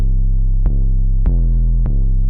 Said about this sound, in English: Without all the nice EQing and everything, the 808 sound like this.